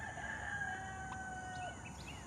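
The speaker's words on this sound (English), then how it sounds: "I'm out here listening to a confused rooster." A rooster crows in drawn-out, wavering calls over steady outdoor background noise, fairly distant, with no other voices.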